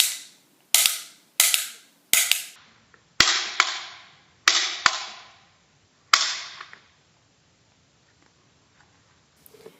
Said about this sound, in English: I'm going to shoot it in my hands again.